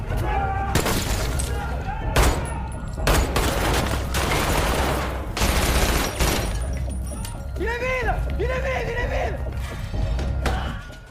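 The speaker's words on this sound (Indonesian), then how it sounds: "para komplotan tersebut mempunyai senjata dan baku tembak pun tak terhindarkan" Rapid bursts of gunfire crack through a police shootout with armed drug dealers, loud sharp volleys clustering in the first half with crashing impacts, then voices shouting over the tail end.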